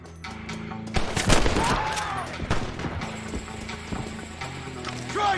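Gunfire in the western game Red Dead Redemption, several sharp shots cracking out amid horse hoof clip-clops and movement, loud and close with a voice briefly heard among the shooting.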